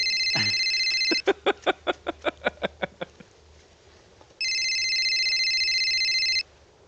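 A cell phone rings with a bright electronic tone, stops, then rings again in a steady sustained burst, with a run of about ten evenly spaced clicks or pulses between the two rings.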